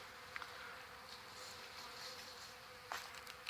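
Honey bees buzzing around a jar feeder, a faint steady hum of many wings with a few louder passes as individual bees fly close.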